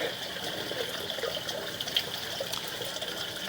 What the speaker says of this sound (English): we are running a bunch of water